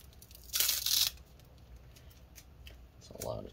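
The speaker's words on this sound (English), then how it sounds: "I'll put more tape here." Adhesive tape pulled and torn during laptop screen disassembly, one sharp half-second rip up close, followed by quieter handling clicks and a brief murmur of speech at the end.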